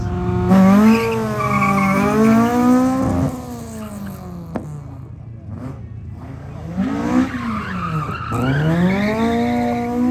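Drift car, a gutted AE86, sliding with loud squealing tires and engine roar at a motorsport event in Thailand, in two long skids with a quieter gap between them.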